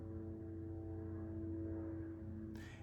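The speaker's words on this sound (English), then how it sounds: "you probably hear airplanes and helicopters flying over my apartment" A steady low droning rumble of aircraft passing over an apartment, constant and moderately loud, with a brief rushing burst near the end; no talk.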